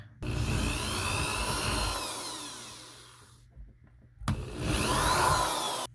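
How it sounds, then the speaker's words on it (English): Power drill boring holes with a 1/4 inch bit during a bedroom closet makeover, two sustained whining bursts, the first about two seconds long then tapering, a pause, then a second burst, loud and close with no talk. "now I'm going to drill these holes with a 1/4 inch drill bit"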